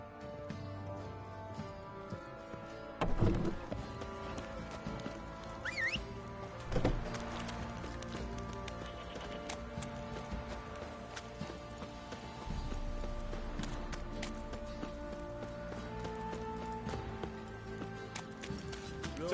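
Horses' hooves clop near a shadowy stable in scattered, uneven steps, some louder thuds standing out against a quiet, faintly humming background.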